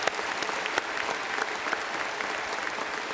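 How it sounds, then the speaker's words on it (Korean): A church congregation at a Sunday worship service claps steadily, dense applause from many hands filling the room for a few seconds, with faint voices underneath. "박수 한 번 더 하겠습니다"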